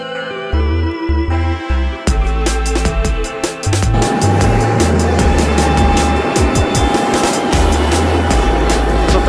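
Steady, loud broadband roar of a jet airliner cabin in flight, with a constant engine drone and a sustained tone running underneath, plus a few clunks and rustles at the start.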